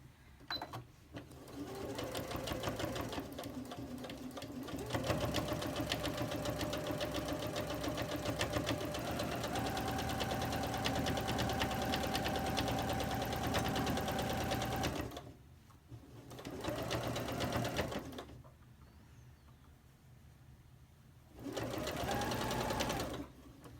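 A sewing machine stitches a strip quilt block in a long, steady close-up run of rapid mechanical whirring, then stops, followed by two shorter bursts of stitching separated by pauses.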